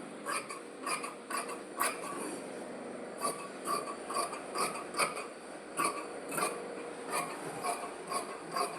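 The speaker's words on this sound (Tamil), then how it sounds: "இதை நம்ம அப்படியே வெட்டி எடுத்துடலாம்." Scissors snip through saree cloth being cut for a maxi top, a quick series of crisp, close rasping cuts in a steady rhythm, quiet and without any voices.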